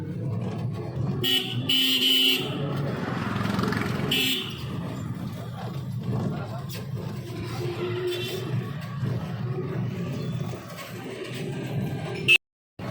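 Busy street traffic in Shyambazar heard from a moving rickshaw, with a steady rumble of passing cars and vehicles and several car horn toots scattered throughout, fairly loud and continuous.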